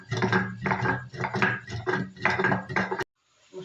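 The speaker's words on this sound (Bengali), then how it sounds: "মশলাটাকে আমি একটু বেটে নিচ্ছি।" Cinnamon stick and four cloves ground by hand on a stone for a red chicken curry, heard as a steady run of rhythmic scraping and knocking strokes, close and fairly loud, ending abruptly in near silence.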